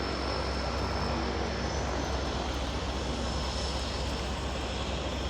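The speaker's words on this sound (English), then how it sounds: "So I chose to catch the plane landing." A de Havilland Otter seaplane with a propeller engine lands in Victoria, BC, its steady broadband engine roar loud and continuous throughout, with no talking.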